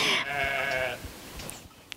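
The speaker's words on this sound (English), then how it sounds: "If you've been hearing bells and weird burp noises," Sheep bleating in a field, one loud harmonic bleat up close at the start followed by fainter animal sounds and a light outdoor background; no clear bell tones stand out.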